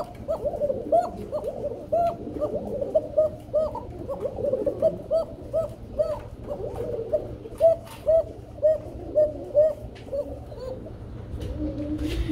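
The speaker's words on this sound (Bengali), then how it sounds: "আমরা এখানে দেখতে পাচ্ছি বড় ভাই আরেক জোড়া কবুতর রয়েছে, রেসার কবুতর ওভার লাইট" Belgian-bloodline racing pigeons coo in a steady run of soft, rhythmic, throaty calls, fairly close, each coo rolling in quick succession against a low background hum.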